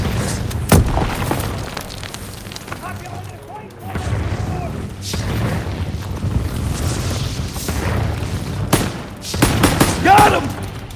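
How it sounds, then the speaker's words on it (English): Call of Duty: WWII gameplay at a church brings dull booms and bursts of distant gunfire under steady battlefield rumble, with soldiers' voices shouting over the fighting. "Lob it a grenade!"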